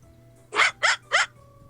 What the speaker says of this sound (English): It's dogs barking.